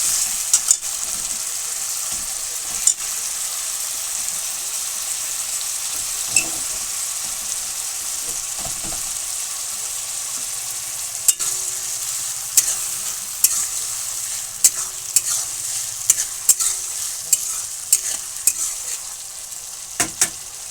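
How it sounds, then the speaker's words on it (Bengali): Bottle gourd kofta curry masala with tomato paste sizzles steadily in a pan as a spoon stirs it, a bright constant hiss with scattered clicks and scrapes growing more frequent toward the end. "নেড়ে চেড়ে নেব।"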